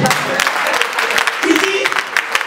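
Church congregation applauding during a French-language worship service, a dense steady clatter of many hands filling the room, with voices mixed in beneath the clapping.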